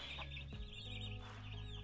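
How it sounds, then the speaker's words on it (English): Chickens cluck softly and continuously in a coop in the video game 7 Days to Die, heard over a steady game ambience with no speech. "As you can see, the chickens are nesting."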